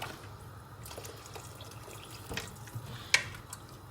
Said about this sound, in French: je mets de l'eau à peu près au-dessus du riz, comme ça